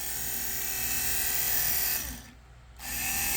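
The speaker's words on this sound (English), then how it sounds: "we'll watch the motor rotate" Restored 1967 Cadillac power window motor turning its dual gear actuating sprocket in reverse, a steady close whirring drone that runs continuously, briefly dips and quiets, then resumes.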